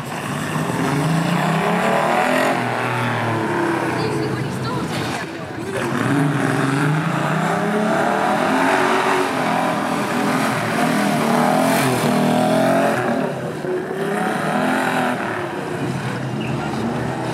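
A 1934 Wolseley classic car drives past at a Brooklands classic car trials event, its engine a steady, fairly loud drone whose pitch rises and falls over about seventeen seconds, with voices in the background.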